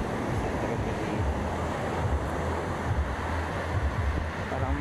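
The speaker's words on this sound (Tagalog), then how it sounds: "Lalakad-lakad tayo dito sa dagat." Sea waves washing on a beach, a continuous rumbling surf with wind buffeting the microphone, steady and moderately loud throughout.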